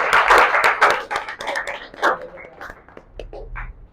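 Audience members clapping at a talk, bursts of handclaps that start dense and loud then thin out into scattered claps, with some voices mixed in.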